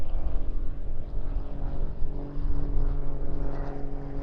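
Grob Tutor propeller trainer flying a stall turn at an airshow, a steady droning engine and propeller hum with layered tonal harmonics, fairly loud and continuous throughout.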